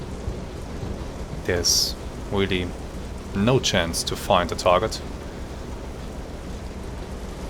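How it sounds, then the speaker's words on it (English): Constant heavy rain pours during bad weather at sea in the submarine simulation game Silent Hunter 3, a steady hiss running throughout while someone talks over it. "Constant rain."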